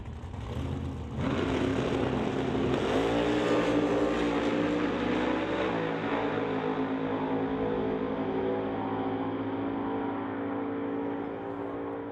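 Drag race cars at the start line, a nitrous-equipped Nova purging and a supercharged Acadian, rumble loudly after a quieter first second, then hold a heavy, throbbing engine drone that slowly fades.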